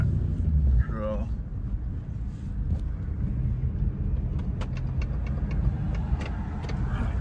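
A 1995 Mustang GT V8 idles and runs at mid RPM with a rough, uneven rumble that stumbles from a misfire, steady and close throughout with faint ticking and a brief voice early on.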